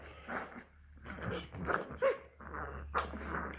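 A two-and-a-half-week-old Spanish Mastiff puppy growls and gives small squeaky barks up close, a few short yelping bursts between low rumbling grumbles.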